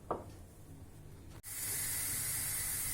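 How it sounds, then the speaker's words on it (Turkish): Onions hit hot olive oil in a pan and burst into a loud, steady sizzle that carries on evenly after a faint rustle at the start. "İlk olarak soğanı kavurarak başlıyorum"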